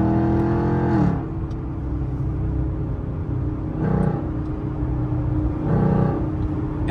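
A Chevrolet Camaro SS engine accelerates hard from inside the car, with three repeated surges of rising engine roar separated by deep, steady rumbling.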